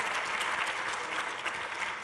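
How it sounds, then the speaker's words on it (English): An audience at a retail incubator's final pitch event in Cleveland gives a brief, steady round of applause after the presentations, a dense wash of clapping at moderate volume with no talk. "Please give everyone a round of applause."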